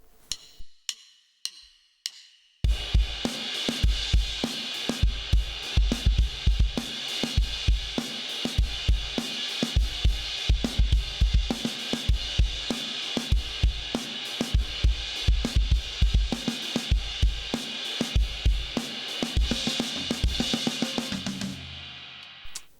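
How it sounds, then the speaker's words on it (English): A drummer plays a busy funky groove with a washy, sizzling trashy crash cymbal riding over steady kick and snare hits, after a few sparse opening strikes. "It's played on the crash cymbal."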